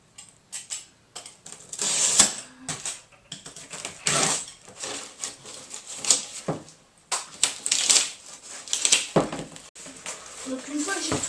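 Cardboard sheets for a homemade cardboard shelf being cut by hand, a run of short, sharp scraping and slicing strokes in irregular bursts, close up, with occasional quiet talk between them.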